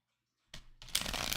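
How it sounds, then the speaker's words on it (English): A deck of cards is riffled and shuffled close by during an outdoor pagan circle with smoke, starting as a short burst and then running into a longer, dense crisp flutter. "when I shuffle the cards, it sucks the air, the smoke into them"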